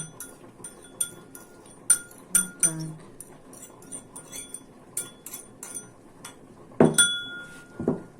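Milk, pepper and onion mixed in a bowl, heard as irregular light clinks and taps of a utensil against the bowl, close up, with a few louder knocks.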